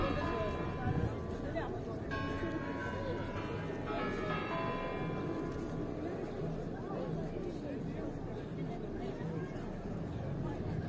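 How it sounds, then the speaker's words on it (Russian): The Kremlin clock chimes strike in Moscow, a series of bell tones ringing out over a busy square, with crowd chatter and someone speaking nearby throughout. "часы забили"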